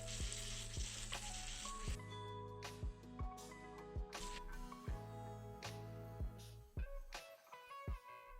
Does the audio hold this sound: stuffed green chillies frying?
yes